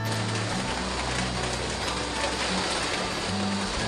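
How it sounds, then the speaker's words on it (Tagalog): Heavy rain pours steadily on a rural countryside setting, a dense continuous hiss that stays loud and even throughout, with no voices over it. "biglang bumuhos ang malakas na ulan"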